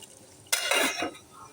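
Spiced quail meat is stirred in a pot, giving one short scraping, clattering stir lasting about half a second amid quiet kitchen background.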